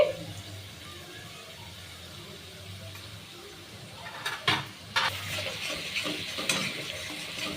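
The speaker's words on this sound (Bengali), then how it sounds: "আমি এটা এখন একটু নেড়ে দিচ্ছি।" Egg curry with mustard paste and chili powder stirred in a pan, quiet simmer at first, then several sharp scraping strokes and wet sloshing toward the end, close by, no talking.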